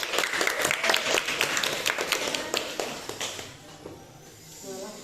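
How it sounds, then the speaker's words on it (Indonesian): A classroom group claps together in a brisk, dense burst of applause that thins out and fades within a few seconds. "Tepuk tangan dulu biar semangat."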